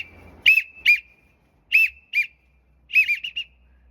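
A Leaning Tree duck whistle blown to imitate a widgeon call: short, piercing two-note chirps in spaced groups, with a quick stuttering flutter at the end, close and loud in a quiet room.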